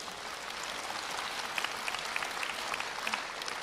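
Thin, scattered applause from a small audience at a Chinese crosstalk comedy show, a few sparse claps rising over a steady room hiss, moderately distant and without any talk.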